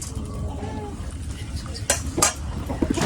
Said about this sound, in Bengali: দেখুন আমি কড়াই চাপিয়ে দিয়েছি